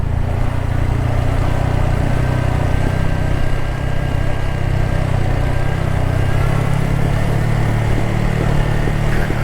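A motorcycle rides along a village road, its engine running as a loud, continuous low drone with steady mid-range hum, close up and unbroken, mixed with rushing wind.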